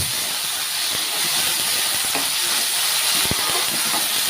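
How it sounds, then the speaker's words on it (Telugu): Small tomato pieces frying in a pan, giving a steady close-up sizzling hiss with a few soft stirring clicks and pops, no talking. "ప్యాన్లో వేసి ఉడికించుకోవాలన్నమాట. లైట్గా దోరగా వేయించుకోవాలి."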